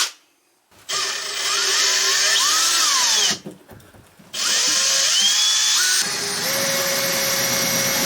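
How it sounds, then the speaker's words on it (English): Power drill boring holes through sheet metal for a camper van power input box: two loud, sustained whining runs with the pitch shifting as the bit cuts, separated by a short pause. "I'm planning to do 4 holes in each corner, and then we will cut the sheet metal from other side."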